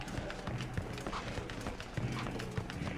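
A horse gallops in the action video game Warriors Orochi 3 Ultimate, rapid rhythmic hoof clops over a busy battle din, moderately loud and continuous with no talk.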